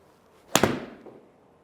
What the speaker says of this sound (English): Again, a very, very neutral golf shot.